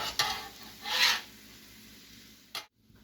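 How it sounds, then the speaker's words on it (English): Corned beef tossed and stirred on a Steelmade flat-top griddle, a scraping, sizzling rasp with a brighter swell near the middle and a short scrape near the end, close and moderately loud with no talking. "And just give my corned beef another toss."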